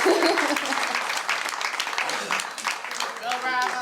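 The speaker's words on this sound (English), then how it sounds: "big applause." Audience applause at a Project Connect reception, a dense, steady wash of clapping from a sizeable crowd that carries through the whole stretch, with a voice rising over it near the end.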